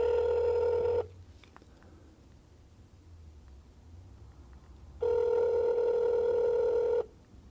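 Two rings of a telephone ringback tone, heard when calling another number: a steady electronic purring tone lasting about two seconds, a long quiet gap with faint line hiss, then a second identical ring.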